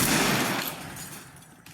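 A rapid burst of gunfire shooting out lights in the Wild West video game, dense and loud at first and then tapering off over under two seconds.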